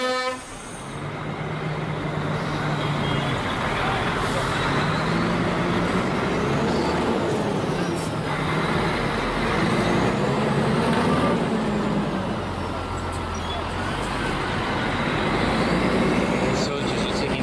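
Dense street traffic roars steadily during a demonstration, with trucks and buses rumbling and horns tooting. A crowd of voices talks and calls out over the continuous noise.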